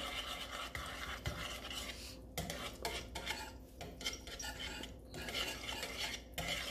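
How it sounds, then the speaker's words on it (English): Whisk stirring a cream-based Alfredo sauce in a pot, a steady scraping and clinking of metal against the pan that continues throughout, with short pauses, at close range and no talking. "I'm gonna just give this a whisk before we add in our mozzarella cheese"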